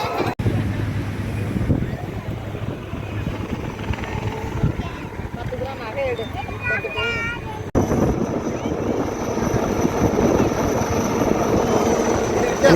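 A Coast Guard helicopter flies over the sea at night near Chennai, its rotor and engine giving a continuous rushing drone with wind buffeting the microphone, while a voice talks over it.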